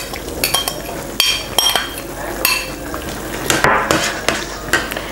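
Potatoes tumble into a pot of simmering Filipino picadillo, giving a series of close clattering, scraping stirs against metal with a steady sizzle beneath.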